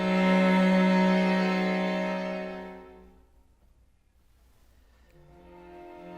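A string quartet plays a short excerpt from Beethoven's Razumovsky quartet: a sustained, rich chord fades to near silence, then soft notes return after a pause.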